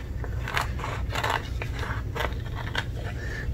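Scissors trimming heat transfer vinyl for a sunflower mandala design, a run of crisp close snips and scraping cuts in an uneven rhythm, with no talk.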